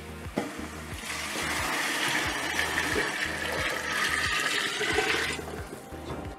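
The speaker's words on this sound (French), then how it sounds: "Ce qu'on appelle mouiller, c'est mettre de l'eau." Water poured into a pot with chicken for a poule au pot, a continuous loud rushing splash lasting several seconds that swells, holds and then tapers off.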